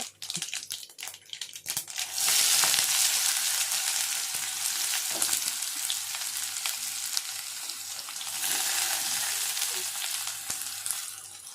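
Onions sauté in hot oil with mustard seeds and curry leaves for a brinjal and drumstick poriyal. A few stirring clicks come first, then a loud, continuous close sizzle swells and holds to the end.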